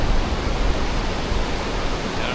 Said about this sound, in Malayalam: നല്ല ഒഴുക്കല്ലേ